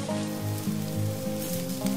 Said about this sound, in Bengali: এবারে আমি কেটে রাখা উচ্ছেগুলো দিয়ে দেবো এর মধ্যে